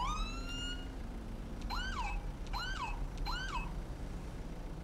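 A police car siren sounds in the GTA 5 video game, a rising wail followed by three quick yelping sweeps, fairly faint over a steady background rumble.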